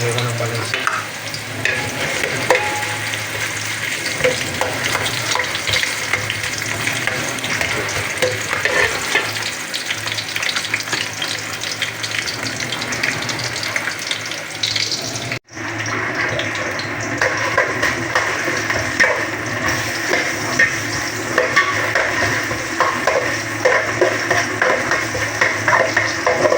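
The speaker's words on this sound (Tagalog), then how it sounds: "Magigisa na tayo ng unahin natin ng luya" Ginger sautéing in a pan for chicken tinola, a loud continuous sizzle with scraping stirs, briefly cut off by a sharp dropout before the crackle resumes just as strongly.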